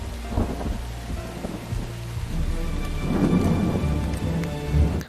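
A heavy thunderstorm at night, with steady loud rain on surfaces and deep rolling thunder swelling up through the middle and end, no voices.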